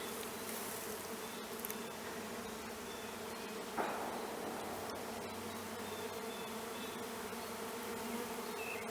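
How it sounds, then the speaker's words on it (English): Many bees buzz in a steady, layered drone close by around a hive box during orientation flights, with a single sharp tap partway through. "you should be able to see bees doing their orientation flights around the yard"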